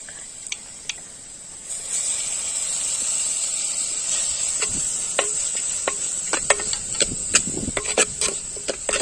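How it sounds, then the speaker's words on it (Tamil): Onions dropped into hot oil in an earthen clay pot during village cooking hiss into a steady bright sizzle after a quiet start, with scattered close crackles and pops. "எண்ணெய் நல்லா காஞ்சிட்டு இப்ப நம்ம வெங்காயத்தை இறக்கிக்கலாம்"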